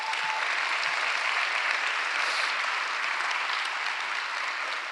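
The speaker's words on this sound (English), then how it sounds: "Please give our cabinet a round of applause." Steady, dense applause from a large audience at Philadelphia's State of the City address at Temple University, honoring the city cabinet; an even, continuous wash of clapping that holds at one level throughout.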